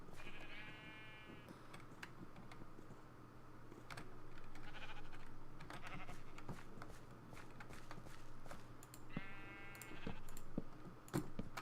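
Sheep in a Minecraft-style video game bleat twice, a clear wavering baa near the start and another near the end, with light footstep clicks and a quiet steady hum underneath.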